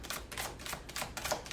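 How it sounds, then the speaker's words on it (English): A long tarot card deck being shuffled by hand, with quick papery riffling bursts in an uneven rhythm, close and fairly quiet, no talk. "I don't know if you guys have seen me shuffle this deck before"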